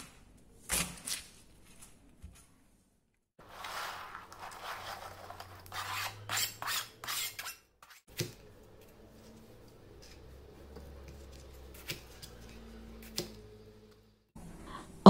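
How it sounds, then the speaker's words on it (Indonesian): Thin knife slices through firm torch ginger (kecombrang) while sambal ingredients are prepared, giving a quick run of crisp rasping cuts in short bursts, close and moderately loud, with quieter scraping and handling noises between them. "Kecombrang ini teksturnya agak keras ya, jadi kita iris saja tipis-tipis."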